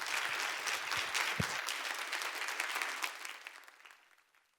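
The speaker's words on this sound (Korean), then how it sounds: "나오실 때 큰 박수 부탁드리겠습니다." A church congregation applauds as the pastor comes forward, dense clapping from a large crowd that holds steady and then fades away toward the end, with a couple of low thumps early on.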